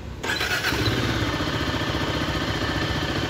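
A Zontes 350 R1 motorcycle fires up on its electric starter after a brief quiet moment, then settles into a steady, close, rapidly pulsing idle that continues to the end.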